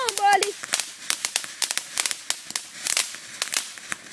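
Fireworks going off outdoors, a rapid irregular series of sharp crackling pops and bangs continuing for several seconds, fairly close, with a short voice at the start.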